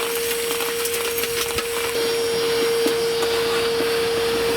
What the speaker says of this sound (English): A little Ozito 18 volt vacuum, bloody handy.